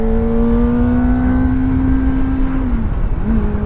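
Kawasaki ZX-25R motorcycle ridden up a mountain road, its engine holding a loud, high-pitched rev close up, briefly easing off, then climbing again.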